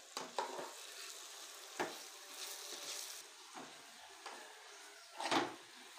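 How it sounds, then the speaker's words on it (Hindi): A spoon scrapes and stirs makhandi halwa in a pan, with irregular scraping strokes and soft sizzling in between, close and moderately loud, no talking. "चम्मच आपने रोकना नहीं है, चम्मच चलाते रहना"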